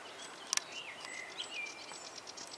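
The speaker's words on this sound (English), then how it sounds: "I can hear warblers." Faint, high-pitched warbler song with thin whistles and chirps over a soft outdoor hiss in boggy ground, including a couple of brief sharp clicks.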